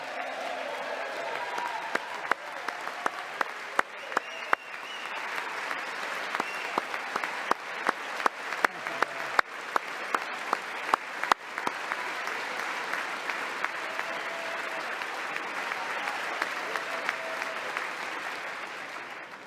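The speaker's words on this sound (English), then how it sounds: "With the name Kennedy, you would have thought everybody over here would have been cheering" Applause in Congress during a presidential address by Donald Trump, a large chamber's steady clapping with sharp individual claps standing out, sustained for the whole stretch at moderate loudness with a faint crowd murmur.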